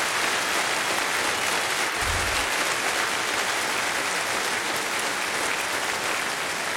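Continuous applause from a large conference crowd at a closing session, thanks directed at volunteers, even and sustained throughout with a brief low thump near the middle.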